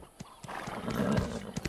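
A horse in the video game Black Desert whinnies with a rising, wavering call amid light clip-clop hoofbeats, fairly close and clear, with no talking.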